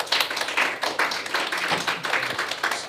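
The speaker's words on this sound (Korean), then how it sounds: "경철 선생님들 박수 한번 치겠습니다." Audience of teachers clapping at a parents' lecture event, with steady rhythmic applause from a moderate-sized group throughout.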